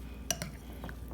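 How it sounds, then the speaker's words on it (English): Oatmeal with apples being stirred in a bowl, giving a few brief spoon clinks and soft scraping sounds, quiet and close. "Next, we're gonna stir it again."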